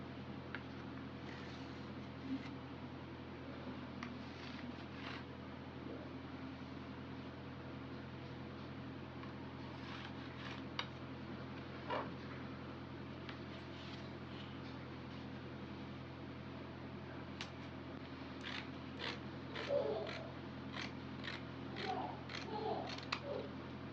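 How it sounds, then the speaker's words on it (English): Scissors snip through excess fabric while a kaftan dress is being cut, faint close clicks and cuts scattered over a steady low hum, growing into a quicker run of snips near the end. "So the excess parts that I don't need, I want to cut it off."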